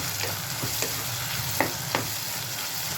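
Salt being stirred into watermelon skin kootu in a pan, a steady low sizzle under a few sharp scrapes of the spoon against the pan.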